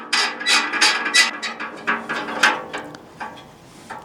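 Screws being tightened by hand on a portable square photo booth stand's upper pillar, giving a run of short, close ratcheting clicks and scrapes in quick bursts that slow and thin out toward the end.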